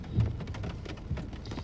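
Heavy rain pours down steadily outdoors near Portpatrick in Scotland, a dense, even hiss of drops with a couple of slightly louder gusts, no voices.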